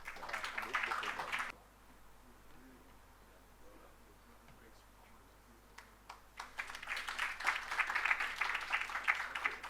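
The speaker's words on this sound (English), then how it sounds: "let's give a big round of applause to these gentlemen" An audience at the opening of a tribal art exhibition claps in a burst, goes quiet for a few seconds, then applause swells again and continues loudly to the end.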